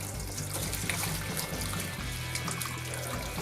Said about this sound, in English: Filter what's left of the marinade.